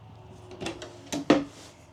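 Heavy duty drawers in a 2025 Winnebago Minnie 2326BH travel trailer slide and shut, giving a few soft rolling movements followed by two firm thuds close by.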